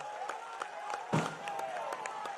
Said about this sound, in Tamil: எல்லாரும் எந்திரிச்சு நின்று கரகோஷத்தோடு அவரை வரவேற்று அவருக்கு ஆதரவளிக்க வேண்டும்